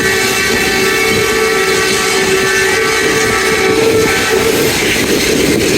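Jaffar Express passenger train running near Sarai Alamgir, a steady loud rumble with sustained tonal whine, heard close from on board, no voices.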